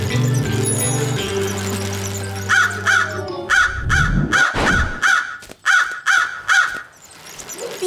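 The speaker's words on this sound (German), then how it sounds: "Captain Tollpatsch, haben Sie die Krähen gesehen?" Cartoon crows caw repeatedly in a PAW Patrol episode, a rapid run of harsh, loud calls that comes after a short musical passage and a swooping effect.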